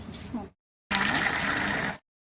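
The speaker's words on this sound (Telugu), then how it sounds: "ఇప్పుడైతే ఈ బకెట్ వాటర్ తీసుకొని మాపుతో తుడుచుకోవాలి" Water sloshes in a bucket filled for mopping the floor, a loud burst of about one second following a short stretch of speech.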